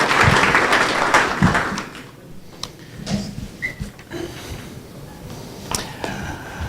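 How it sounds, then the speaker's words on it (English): An audience applauds panelists at a product career talk. The clapping is dense and loud for about two seconds, then thins into scattered claps and faint room noise. "round of applause, please, for our panelists"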